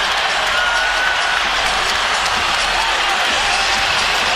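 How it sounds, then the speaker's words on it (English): Loud, dense crowd roar filling a college basketball arena in an Iowa State versus Kansas State men's game after back-to-back three-pointers, a steady wall of cheering and noise with no pauses. "Listen to this crowd"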